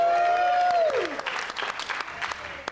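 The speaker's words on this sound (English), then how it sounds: "Well, you're clapping now" A theater audience claps after a falling tone fades out, steady applause from many hands filling the room and then thinning out.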